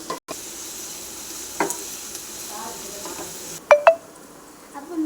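Carrot, green chili, garlic and onion fry in oil in a pan for noodles, a faint, low sizzle with a few sharp metallic clinks and scrapes of a stirring spoon, otherwise quiet.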